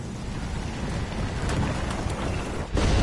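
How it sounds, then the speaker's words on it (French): Thunderstorm in the video game Life is Strange: steady, loud rain and wind rumble throughout, with a few faint thunder crackles and a heavier surge of storm noise near the end. "c'est la tempête dans le jeu. Il y a de l'orage là."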